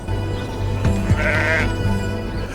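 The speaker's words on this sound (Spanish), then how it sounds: "las ovejas de Groenlandia aparecen como auténticos guerreros de la creación" Sheep bleat on steep sea cliffs in Greenland, a couple of wavering calls rising over a steady wind-like background rumble, fairly close and clear, with no talk.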